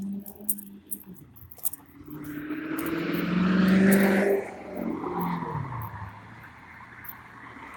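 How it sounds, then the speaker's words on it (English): A car engine revs up loudly nearby, swells to a peak, then fades as the car pulls away. Before the rev there are brief clicks and jingling sounds, and no one speaks. "Nice car."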